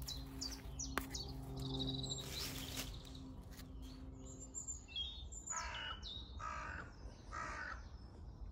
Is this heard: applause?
no